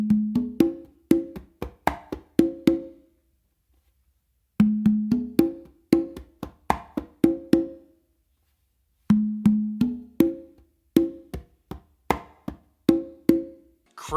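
Congas play a funk melody tumbao of crisp open tones and sharp slaps in repeating two-bar phrases, close and dry, with short pauses between passes and no talking.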